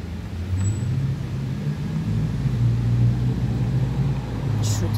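A Mercedes car drives along a city street in central Chisinau, its engine a steady low rumble passing close by amid general traffic noise.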